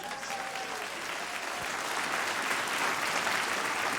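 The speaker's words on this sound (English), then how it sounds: "please clap" Audience at an evening event applauding, steady broadband clapping that holds evenly through the whole stretch and swells slightly toward the end, with no talking over it.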